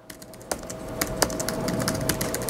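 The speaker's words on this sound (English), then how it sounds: "I'm going to have trouble typing here" Rapid, uneven clicking of computer keys during a programming training session, close and fairly loud, a steady patter of light taps with a few sharper strokes and no talk.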